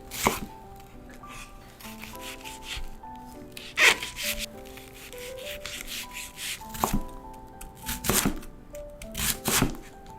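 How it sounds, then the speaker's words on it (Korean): Sharp knife chops through an onion on a cutting board, a quick burst of several strikes followed by scattered single cuts, close and clear, with no talking. "양파 4분의 1개를 찹찹찹 작게 잘라주세요."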